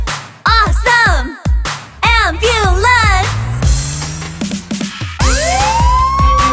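Ambulance siren in a children's rescue-team song, loud wailing tones that rise and fall in quick sweeps, breaking off and returning, then a long rising whoop near the end, set among musical sounds.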